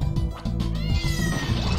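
A cat meows repeatedly in a room, several drawn-out, wavering cries close by, mixed with background game music.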